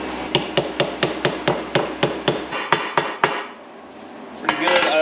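A hammer taps a small washer into a drum-to-disc brake assembly during a bearing installation, about fourteen sharp, evenly spaced metallic strikes close by, then a short pause and a scraping rustle at the end.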